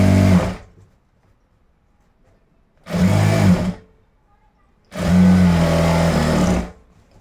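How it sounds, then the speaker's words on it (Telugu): A sewing machine stitches the side seam of boys' school uniform shorts in three loud, close bursts, the first two short and the last longer, with quiet gaps between them. "ఈ ఫ్రంట్ పార్ట్ బ్యాక్ పార్ట్ 2 అనేది కలిపేసి ఇప్పుడు కుట్టు అనేది వేసేస్తున్నాను"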